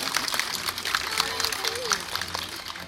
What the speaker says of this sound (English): Big round of applause there for Elmo.